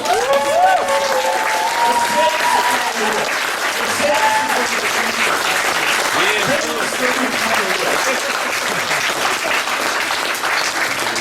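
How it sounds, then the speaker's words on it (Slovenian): A church congregation applauding during worship, a dense steady wash of many hands clapping throughout, with a voice speaking over it. "Haleluja, če verjameš Jezu, dajmo en aplavz v meri."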